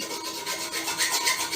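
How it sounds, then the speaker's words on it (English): Iron scrubber rasping rust off a metal rod, a steady, close, continuous harsh scrubbing with slight rhythmic swells and no pauses. "We are also using the iron type of scrubber."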